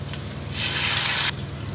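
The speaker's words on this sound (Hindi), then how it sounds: "अब मैं इसमें पानी डाल दूंगी।" Water poured into a hot pan of fried garam masala, a sudden bright hissing splash that lasts under a second over a quiet background hum, then cuts off.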